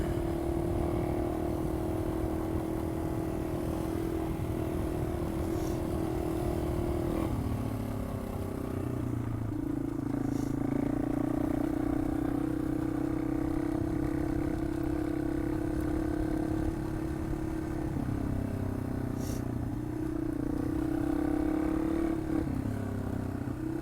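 A Yamaha XT225 motorcycle is ridden under steady engine drone with wind rush, the pitch shifting with gear changes and throttle as a third-gear wheelie is attempted, loud and continuous the whole time.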